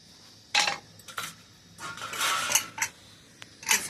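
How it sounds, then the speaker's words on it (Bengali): A pressure cooker lid being fitted and locked on while mutton boils: a few sharp metallic clanks and scrapes of lid against pot, close and fairly loud, with no talking. "প্রেসারটা লাগিয়ে দিলাম"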